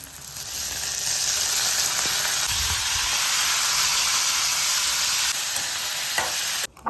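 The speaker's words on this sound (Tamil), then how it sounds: "இப்போ வந்து டொமேட்டோஸ் போட்டுக்கலாம்." Tomatoes hit a hot pan for tomato-paneer bhurji and set off a loud, steady hiss and sizzle that lasts several seconds, with a brief stir or scrape partway through.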